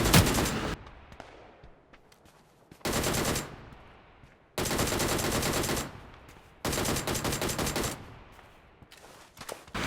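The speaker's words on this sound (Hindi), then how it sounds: "तीनों साइड से भाई गोली चलने लगी" Automatic gunfire erupts in the NEW STATE Mobile battle royale game: four loud, sustained bursts of rapid shots, each a second or so long, separated by quieter gaps with fading echoes and a final burst starting at the end.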